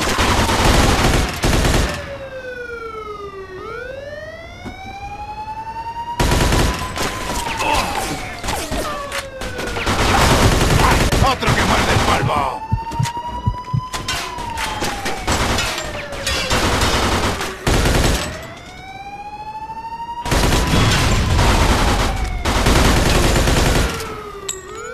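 Rapid bursts of gunfire from a Mafia 2 shootout in the video game, loud and dense, broken by short lulls while tire squeals or whining sweeps rise and fall between volleys, with shouted voices mixed in.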